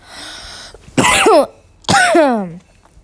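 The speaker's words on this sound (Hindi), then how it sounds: "खांसी आ रही है दो मिनट" Two harsh, loud coughs close to the mic, each a rough burst about half a second long, separated by a short quiet gap.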